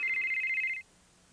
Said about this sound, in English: The Motorola StarTech, the world's smallest, lightest phone